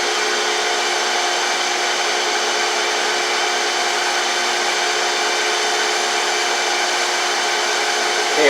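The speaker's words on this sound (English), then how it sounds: "now I'm getting more of a continuous grind" A surface grinder's wheel grinding continuously on a mini drill press spindle, a loud, steady, even hiss-like roar that holds unbroken from start to finish.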